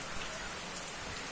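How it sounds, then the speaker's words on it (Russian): Heavy monsoon rain pours down in Tamil Nadu, India, amid strong wind, a dense, even hiss of rain on surfaces heard from indoors near a balcony, steady and unbroken. "Вот он, дождь. Заливает дождь, заливает."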